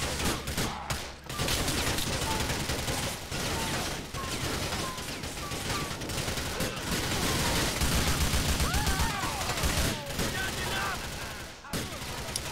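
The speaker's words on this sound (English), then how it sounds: "Shoot these commies!" Continuous gunfire in Grand Theft Auto IV, dense rapid bursts of shots and clattering impacts that run almost without a break.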